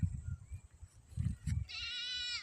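A sheep on a small farm pasture gives one clear, wavering bleat near the end, after some soft low thumps and rustling nearby.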